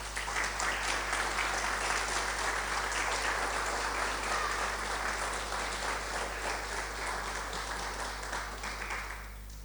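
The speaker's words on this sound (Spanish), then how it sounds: "Denle un aplauso al Señor" A church congregation applauds the Lord in a long, dense, steady round of clapping that fills the room and slowly fades toward the end, with a low steady hum underneath.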